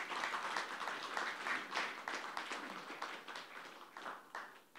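Steady applause from the audience at an academic symposium opening ceremony as a guest is introduced, fairly faint individual claps blending into a continuous patter that slowly tapers off.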